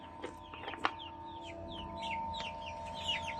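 White Leghorn and Rhode Island Red hens in a pen give soft, scattered clucks and short calls. The sound is fairly faint, with no voices.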